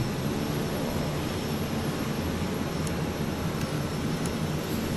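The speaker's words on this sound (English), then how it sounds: "Engine start here, prop coming forward." A Kodiak 100 turboprop spooling up at engine start in Microsoft Flight Simulator, giving a steady, loud broadband roar with a faint high whine that holds evenly throughout, with no talk.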